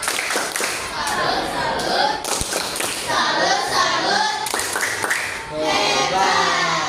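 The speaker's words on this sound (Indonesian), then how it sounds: "Ayo tepuk salut untuk kita semua." Schoolchildren in a classroom clapping along to a rhythmic tepuk salut chant, sharp hand claps in bursts mixed with loud children's voices chanting and shouting together, close and lively.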